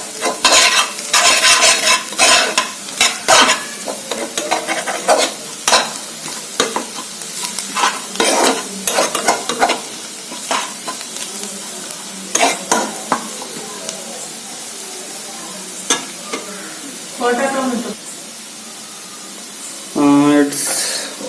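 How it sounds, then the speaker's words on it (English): Masala and onion are sautéed in a pan for a chole dish. A loud sizzle runs under frequent scraping and stirring strokes of a spoon against the pan, with brief pauses and a voice talking at times. "Just saute the masala with the onion."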